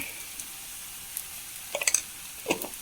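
Onions frying in a pan with chilli powder just added for a banana flower and green gram stir-fry: a quiet steady sizzle with a few crackles and stirring clicks near the end.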